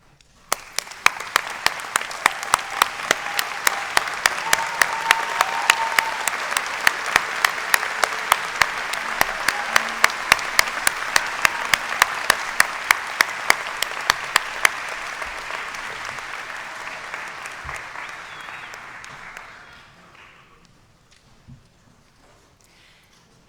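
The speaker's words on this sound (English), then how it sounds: "please join me in rising and applauding the people that got you here" Large audience rising and applauding at a university doctoral hooding ceremony, dense sustained clapping with crisp individual claps standing out, fading away near the end into quiet.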